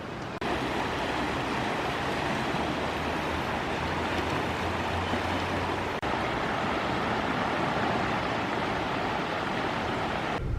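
A creek flows outdoors in nature, a constant broadband rush of running water heard close and loud, unbroken and even for the whole stretch.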